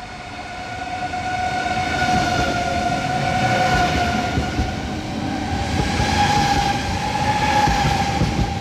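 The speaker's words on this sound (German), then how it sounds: "Gleis 1, Einfahrt ICE 911 nach Frankfurt am Main Hauptbahnhof über Frankfurt am Main Flughafen Fernbahnhof." An ICE high-speed train pulls into a station platform, a steady loud rumble with sustained whining tones that swell and ease over several seconds, with no voices.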